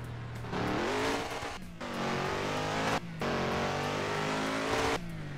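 In the Roblox game Southwest Florida, an admin Charger with a six-speed gearbox and nearly 1700 horsepower revs hard under full acceleration, its engine pitch climbing through each gear, broken by short pauses at the shifts.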